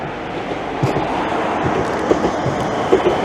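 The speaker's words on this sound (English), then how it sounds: "a mandatory tram" A tram rumbles steadily past a crossing on the edge of Leyburn, its low drone broken by a few light rail clacks, loud and close with no talking.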